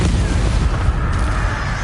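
A roaring, booming burst of fire from the Incendio spell in Hogwarts Legacy, a dense continuous whoosh that fills the whole moment and stays loud throughout.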